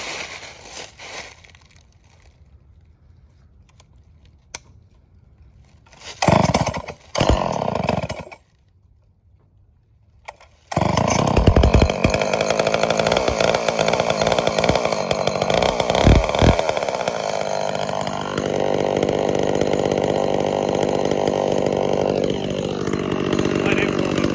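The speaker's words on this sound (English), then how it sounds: "start my chainsaw." A chainsaw cutting firewood on a rural property, starting with a few sharp pull-start bursts, then revving up and running loud and continuous for over ten seconds with shifting pitch as it bites into the wood.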